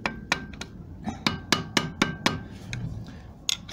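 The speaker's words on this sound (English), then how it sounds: "the only way I can find to get the handbrake cable off the back plate is to force a 12mm ring spanner" Sharp metallic knocks ring out as a 12mm ring spanner is forced onto a Gen 3 Suzuki Jimny handbrake cable at the back plate, about a dozen close, loud strikes in an uneven rhythm.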